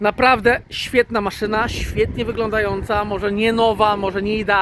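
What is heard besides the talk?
No everyday noises stand out.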